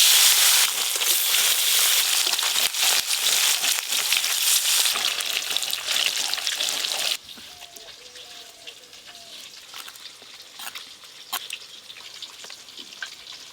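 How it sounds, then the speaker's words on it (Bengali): Rohu fish pieces frying in hot oil for a Bengali puja-special meal, a loud dense crackling sizzle that drops to a softer bubbling hiss partway through. "এবার মাছগুলো ভালো করে ভেজে নেব।"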